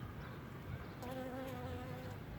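Bees buzz steadily at close range around mallow flowers, a droning hum that rises and wavers as they move about, with no voices.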